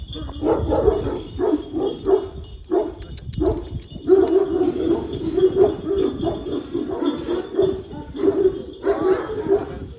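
Large female Kangal dogs bark repeatedly in a steady, irregular series, loud and close, with a faint high tone running underneath.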